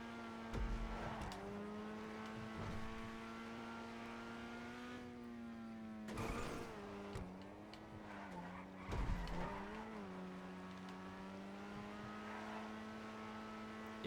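Grotti Itali RSX sports car in GTA lapping a track, its engine a steady loud drone with rising and falling revs, punctuated by bursts of tire squeal and skidding around the corners.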